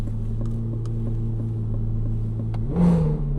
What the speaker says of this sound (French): Échappement Quicksilver, puisqu'à la base, ces voitures font assez peu de bruit.